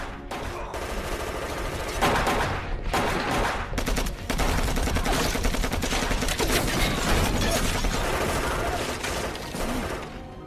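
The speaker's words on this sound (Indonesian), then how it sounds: "Setelah itu Sus masuk ke markas tersebut dan terjadilah adu tembak dengan pasukan polisi Jerman." Dense gunfire from a firefight with German police in the WWII film Defiance, rapid overlapping automatic bursts and single shots crackling continuously and loudly, layered with battle noise and score.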